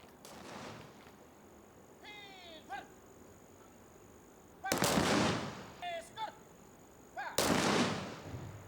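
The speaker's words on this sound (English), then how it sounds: "As part of the program, a gun salute was offered to the martyrs." A ceremonial gun salute at a police memorial in Manipur: two loud, sharp volleys a few seconds apart at moderate distance, with brief bugle-like or whistling tones and outdoor ambience between them.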